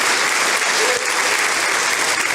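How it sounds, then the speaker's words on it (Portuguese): A church congregation applauds, a dense, loud and sustained clapping that fills the room evenly from start to finish, with a faint voice mixed into the crowd. "Aplauda ao Senhor em nome de Jesus"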